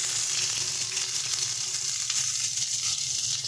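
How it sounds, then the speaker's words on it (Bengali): Ginger paste sizzling and frying in hot oil, a steady bright crackle filling the whole moment at close range with a low bubbling underneath and no voices. "এবার তেলের মধ্যে আমরা প্রথমে মশলাগুলো দিয়ে দেব।"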